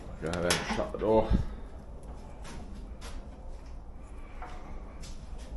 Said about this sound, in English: Then shut the door.